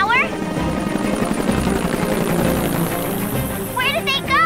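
Cartoon aircraft taking off, a steady loud rotor-like engine drone that holds through the whole stretch, with high squeaky cartoon voices chirping at the start and end.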